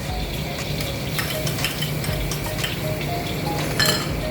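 Chopped garlic sautés in annatto oil in a pan for a Nueva Ecija-style pancit, a steady dense sizzle with light stirring clinks and scrapes throughout, close and fairly loud with no voices.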